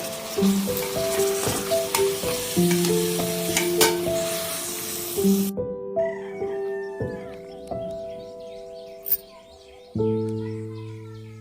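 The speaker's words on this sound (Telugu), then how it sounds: "ముక్కలు మంచిగా నూనెలో వేగాయి." Washed dried meat pieces frying in oil, a crackling sizzle with rhythmic stirring knocks close by, while a rooster crows in the background and a tonal hum comes and goes.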